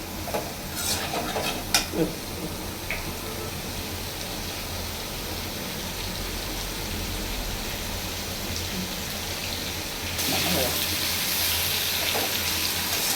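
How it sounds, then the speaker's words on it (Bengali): Pointed gourd (potol) frying lightly in a pan for a silver fish curry, giving a steady, close sizzle throughout with a few sharp pops near the start and a brighter hiss in the last few seconds. "কড়া করে ভাজবো না একটু হালকা ভেজে নিলাম"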